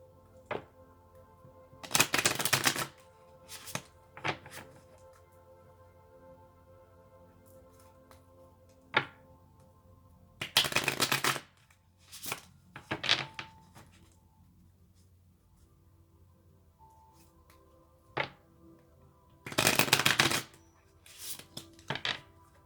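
Tarot cards shuffled in bursts, a few riffling rushes spaced several seconds apart with light taps and clicks between them, close and fairly quiet against a faint steady hum.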